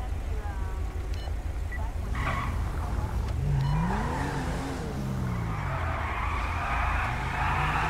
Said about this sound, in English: And stop burning your tires, please.